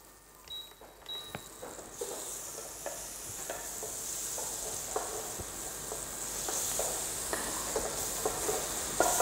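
Butter melting in a heated pan gives a steady, gradually rising sizzle and hiss, close by and alone, with scattered light taps and scrapes of a utensil.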